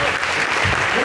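Brief burst of audience applause at a mobile development stage event, dense clapping filling the short moment with a bit of crowd murmur underneath.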